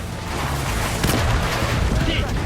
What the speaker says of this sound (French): il y a des explosions de partout